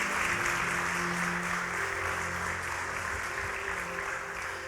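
A church congregation applauds during a Portuguese-language sermon, dense sustained clapping over a low humming background, holding steady and easing slightly toward the end.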